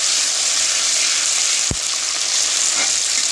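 Jackfruit curry with green chilli and ground paste sautés in a pan, a loud continuous sizzle close up, with one brief knock of a spoon against the pan.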